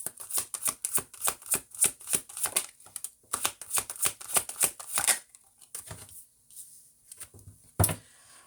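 Tarot cards are shuffled in rapid crisp bursts of riffling and flicking, then a pause with a few softer taps and one final snap.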